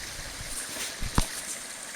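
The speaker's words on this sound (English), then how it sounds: "The water comes out right under that tree." Spring water bubbles out from under a cedar tree on a hike to Upper Ironside Springs: a quiet, soft gurgling trickle up close, with one brief thump near the middle.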